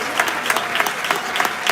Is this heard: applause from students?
yes